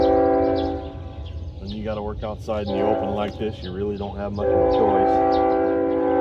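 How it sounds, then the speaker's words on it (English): Passing train sounds its horn, a steady tonal blare that holds throughout, heard close by outdoors beside a 1950s Lincoln welder under repair, while someone talks over it. "Here comes a train, so I'm sorry for the background noise"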